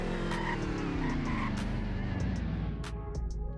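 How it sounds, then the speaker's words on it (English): A car in the Greenville video game braking hard and skidding, with a loud continuous tire squeal over the engine, held steady for several seconds close up. "Braking, actually, we didn't make very many skid marks."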